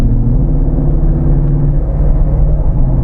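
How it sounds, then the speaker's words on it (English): A 2017 Jeep Wrangler JKU Rubicon with a swapped 6.2-litre LT V8 and eight-speed transmission pulls onto a highway under light throttle. The engine gives a steady, loud, low rumble with road noise beneath it. No one speaks. "You see how easy this LT gets up onto the highway."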